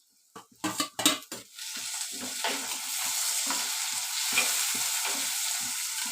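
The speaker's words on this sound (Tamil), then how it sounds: "நல்லா வதங்கின பிறகு நம்ம கட் பண்ணி வச்சுருக்கோம் தக்காளி அதை போடுவோம்" Chopped tomatoes dropped onto sautéed onions in a pan for crab gravy, a few sharp clatters and thumps giving way to a steady, close frying sizzle with faint stirring scrapes, no voices.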